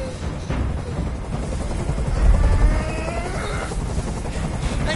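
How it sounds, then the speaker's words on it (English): Steady helicopter rotor drone from the video game Detroit: Become Human, loud and continuous with a low thumping rumble that swells briefly midway, with no talking. "I can't stand that noise anymore. Tell that helicopter to get out of here."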